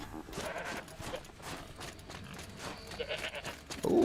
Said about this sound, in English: Oh, I hear a goat.